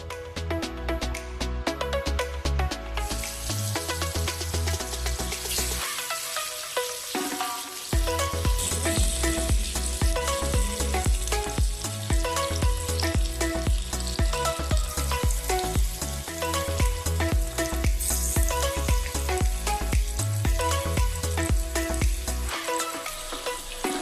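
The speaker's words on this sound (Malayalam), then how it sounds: "ഒരു 10-15 മിനിറ്റ് കഴിയുമ്പോൾ നമുക്കിതൊന്ന് ഫ്രൈ ചെയ്തെടുക്കാം." Masala-coated avoli fish frying in hot oil, a steady, continuous sizzle that runs throughout under a loud music track.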